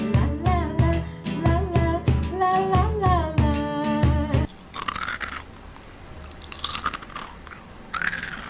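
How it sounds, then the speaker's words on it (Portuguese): Someone chews and crunches with irregular crisp bites in the second half, following a stretch of tonal, music-like sound at the start. "Acho que ele tá mastigando."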